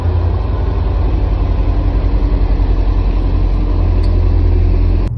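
A Porsche Panamera GTS engine runs with a loud, steady, deep rumble close by, holding an even idle throughout with no pauses.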